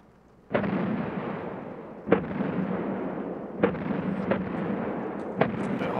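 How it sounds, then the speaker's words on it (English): Muffled explosions sound in Escape from Tarkov, four or five heavy booms spaced a second or two apart over a rumbling low bed, distant rather than close. "All I hear is constant explosions."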